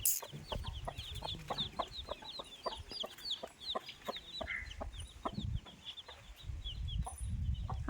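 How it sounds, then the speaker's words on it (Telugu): Chicks and fighting cocks clucking on a farm in a coconut grove, a steady chorus of chirps and clucks with rhythmic pecking taps and occasional louder bursts nearby. "కోడి పిల్లలు చూడండి ఎంత బాగున్నాయి"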